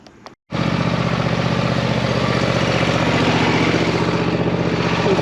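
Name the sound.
lawnmower engine running to warm up the oil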